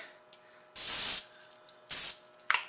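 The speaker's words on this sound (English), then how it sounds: "oil spray and wipe down" Three short bursts of cooking oil spray onto a crepe pan, a long hiss followed by a shorter one and a brief final spritz, close by with quiet gaps between.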